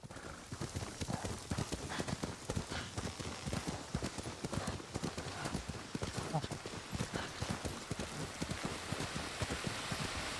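Horse galloping in the video game Ghost of Tsushima, a steady rapid clip-clop of hooves with rain-like hiss throughout and a player talking over it.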